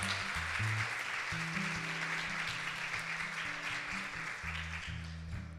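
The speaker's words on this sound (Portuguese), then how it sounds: "você pode aplaudir o Senhor?" A church congregation claps in sustained applause, moderately distant, with soft keyboard chords playing underneath.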